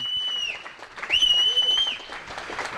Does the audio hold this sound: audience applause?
yes